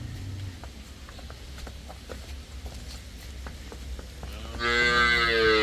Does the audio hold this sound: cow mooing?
yes